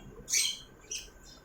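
Pet budgerigars kept for sale let out two brief, faint squawky chirps about half a second apart over a quiet background.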